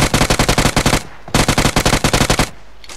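A UMP submachine gun in PUBG Mobile fires two rapid automatic bursts, each about a second long with evenly spaced loud shots, close and dry, separated by a brief pause.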